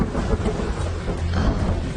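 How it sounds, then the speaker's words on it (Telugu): Heavy rain pours in a dense, steady hiss, with a low rumble of thunder beneath it and no voices. "వర్షం పెద్దదైంది."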